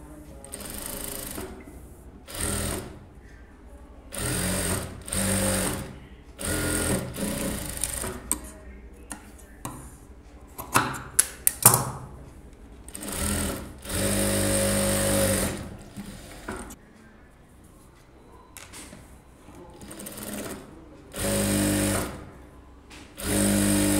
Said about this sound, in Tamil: அட்டாச் பண்ணிவிட்டு ஒரு ப்ரெஸ் தையல் போட்டுக்கோங்க.